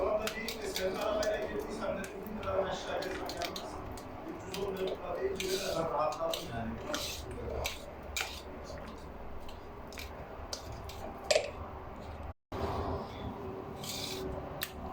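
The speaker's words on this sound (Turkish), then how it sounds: "Güzelce karıştıralım." A saray sarma dough mixture with vanilla stirred in a bowl, giving soft repeated scraping and clinking of the utensil against the bowl, with people talking over it throughout.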